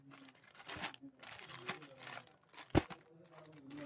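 Packed silk saree being opened, its plastic wrapping crinkling and rustling in short bursts with one sharp crackle, close and fairly quiet.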